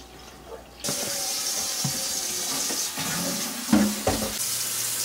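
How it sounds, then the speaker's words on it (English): Ice-cold water gushes steadily into a pot of beer wort, a continuous splashing rush that starts abruptly, with a few soft knocks and clunks near the end. "Now I'm just topping it off with some ice cold water to even it out the temperature."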